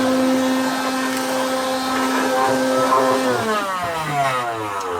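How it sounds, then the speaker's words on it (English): A cordless vacuum cleaner's motor hums loudly and steadily in a solar-powered cabin, then its pitch shifts and wavers near the end as it works, with no talking. "I've just plugged in this cordless vacuum"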